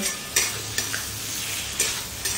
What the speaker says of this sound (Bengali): এবারে এই মশলার সঙ্গে ভেন্ডি আর ডিমটা ভালো করে মিশিয়ে দিতে হবে।